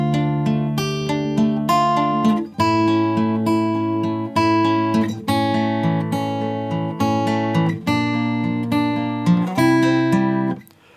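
Acoustic guitar in drop D tuning fingerpicks the opening line of a song: a steady run of plucked notes over a low droning bass, close and clear, with no talking.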